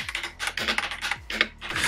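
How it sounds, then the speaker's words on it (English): Rapid, steady typing on a Redragon K658 Irelia Pro keyboard with Outemu switches, noise-dampening foam and a transparent case: dense, close clacking keystrokes in quick bursts. "The keys are comfy to type on and the switches are RedRagon's own design made by Outemu."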